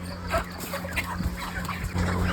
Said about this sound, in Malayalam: കോഴീനെ പിടിച്ച് ബോക്സിലാക്കുകയാണ്